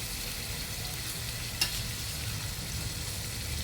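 Masala-coated fish, including pomfret, frying in oil over a low flame, with a steady soft sizzle and a single brief clink partway through, no voices.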